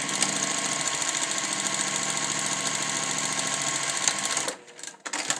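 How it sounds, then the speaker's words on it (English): A sewing machine stitches elastic onto a fabric face mask, running in one loud, steady, close whir for about four and a half seconds before stopping abruptly, followed by faint handling sounds. "Sewing the elastic,"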